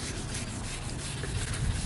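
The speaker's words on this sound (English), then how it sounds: "Now y'all are gonna do a lot of sanding." Car headlights sanded by hand, a close, continuous rough rubbing scrape with no pauses and no voices.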